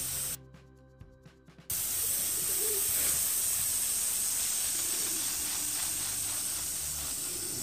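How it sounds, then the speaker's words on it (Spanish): Water sprayed like a fine dew over a carrot seedbed's soil gives a steady, close hissing rush that starts abruptly after a brief quiet and continues evenly, with faint bird coos in the background. "Ya tiramos el agua. Así como rocío, por encimita, como si fuese una lluvia"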